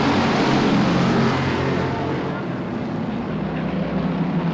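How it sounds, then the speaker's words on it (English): Race cars roar past together under the green flag at Silver State Raceway, a loud, sustained engine drone that eases slightly partway through. "Here they come. Green flag racing."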